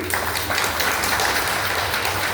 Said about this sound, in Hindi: तो मंजू जी के नाम से ताली बजा दीजिए।